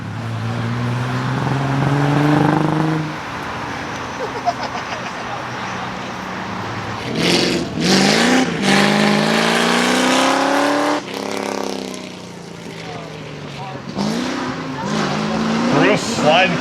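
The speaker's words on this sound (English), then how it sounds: "Bruce sliding through that curve." A race car at Carlisle Ford Nationals 2020 street-class track racing brakes hard and slides through a curve, engine revving up and down with tire squeal, under loud continuous announcer commentary.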